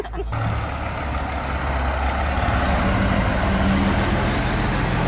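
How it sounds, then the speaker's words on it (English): A Kenworth truck rolls in with a loud, steady engine rumble that builds slightly, with a brief hiss at the start and a faint beeping tone partway through. "Truck 116 rolling in."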